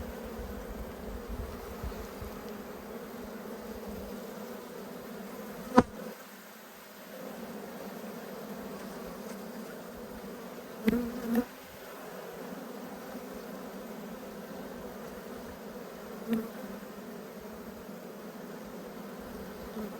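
Honey bees buzz in a steady, close drone during a late-winter hive inspection, with a few brief knocks and clicks from handling the frames breaking through the hum.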